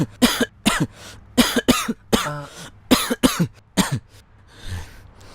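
A person with a cold and fever coughs hard about ten times in uneven bursts, close and loud, with one rougher throaty cough partway through and a softer one at the end, no speech.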